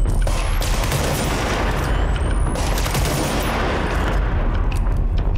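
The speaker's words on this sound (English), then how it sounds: "Go ahead, shoot your rocket." Rocket fire and blasts in the game Control, a loud continuous roar of booming, crackling explosions filling the whole stretch, with faint rising whistles overhead and no talk.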